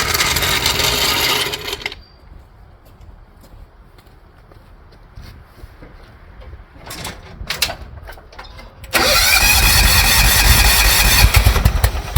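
A John Deere 175 Hydro lawn tractor engine runs loud and close for about two seconds, drops to a quiet stretch with a few knocks and rattles, then roars back steadily for the last three seconds.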